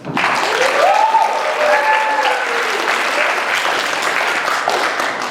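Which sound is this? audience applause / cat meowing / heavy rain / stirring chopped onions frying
audience applause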